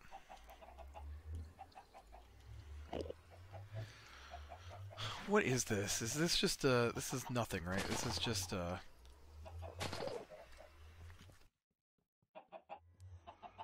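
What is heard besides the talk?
chickens clucking in Minecraft FTB Infi-Tech 2 video game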